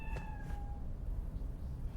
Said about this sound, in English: I hear the cat, but I do not see the cat.